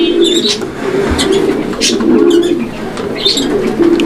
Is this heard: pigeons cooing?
yes